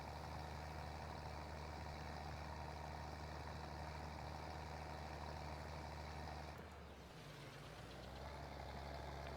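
A tractor engine in a farming video game drones steadily at low pitch, loud and close. Around two-thirds of the way through, the tone briefly dips and shifts, then settles back into the hum.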